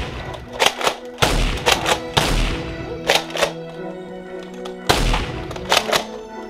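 Nerf blasters fire foam darts in a backyard battle, sharp close thunks and pops coming in quick clusters of two or three with brief gaps between volleys.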